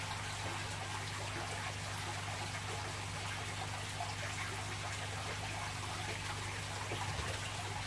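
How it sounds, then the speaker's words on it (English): Oxygen bubbles into a goldfish tank or small pond as a steady, continuous fizzing and trickling wash of water with a constant low hum underneath, close and unbroken throughout. "And now we've got pure oxygen now getting released into the tank."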